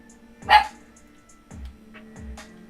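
A dog indoors barks three times, with one loud close bark followed by two softer ones spaced about a second apart, over a faint steady hum.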